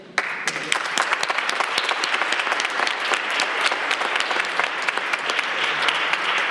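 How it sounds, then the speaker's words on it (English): At a city council meeting, people applaud outstanding library workers with a loud, close, sustained round of clapping, sharp individual claps popping out of a steady, dense mass of hands. "applaud these outstanding library workers and all those library workers who could not be here this evening"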